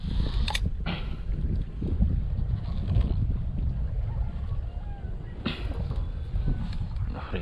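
Strong gusting wind buffets the microphone outdoors on a coastal crossbow fishing outing, a steady loud roar with louder blasts near the start and again later.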